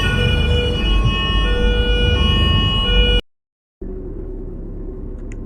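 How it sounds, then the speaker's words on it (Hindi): A loud ambulance siren blares steadily with a rumbling engine underneath, cuts off abruptly, then returns after a brief silence. "एम्बुलेंस आ गई।"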